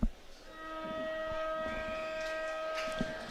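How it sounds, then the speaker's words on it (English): A football ground siren blares for half-time at an Adelaide Footy League Division 1 grand final, a loud, steady, harmonic tone held for about three seconds over a background crowd murmur. "we'll hear the siren make a noise"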